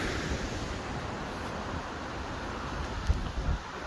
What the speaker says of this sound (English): so assuming that's the River Orchy.